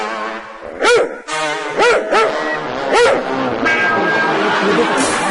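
A man on a television show vocally imitates a dog barking as it chases a thief, giving a series of loud, separate, rising-and-falling barks followed by a trailing whine.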